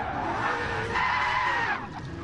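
Car tires squealing hard during a burnout, a loud sustained screech with a wavering pitch over rumbling engine noise, close by and lasting about two seconds.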